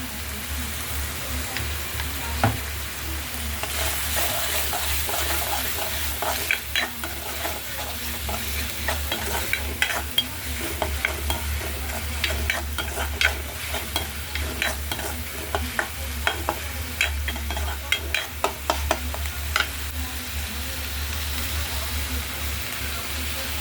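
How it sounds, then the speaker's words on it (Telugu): Ginger-garlic paste fries for a chicken and egg curry, giving a constant close sizzle with repeated scraping stirs in the pan and a low background hum throughout. "ఇప్పుడు అల్లం వెల్లుల్లి పేస్ట్ వేసుకుందాం బాగా వేగిందండి"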